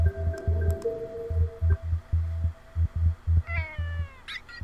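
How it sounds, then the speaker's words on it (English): A cat meows in the Rumu video game, two short meows late in the clip over a rhythmic, pulsing low electronic hum. "I love Ada the cat!"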